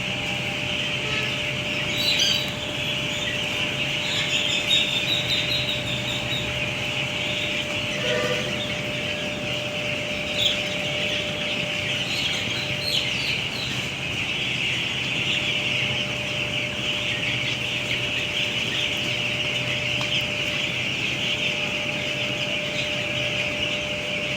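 Ten-day-old chicks in a poultry farm shed keep up a dense, continuous chorus of high chirping, with no break in the sound throughout.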